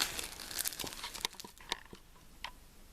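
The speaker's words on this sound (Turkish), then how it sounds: "hemen şöyle poşetinden çıkarayım." A family calendar is pulled from its plastic bag, giving crisp crinkling and rustling that starts dense and loud, then thins into a few sharp separate crackles, close to the microphone with no speech.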